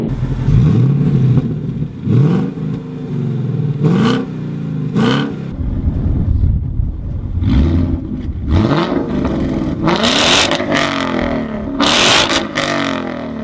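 A car fitted with a Roush cat-back aftermarket exhaust revs repeatedly, each rise in engine pitch followed by a drop back, loud and close with no voices.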